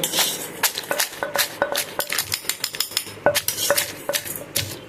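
Pounding spices in a mortar and pestle in a home kitchen makes sharp metallic clinks and thuds, struck repeatedly in an uneven rhythm, close and fairly loud.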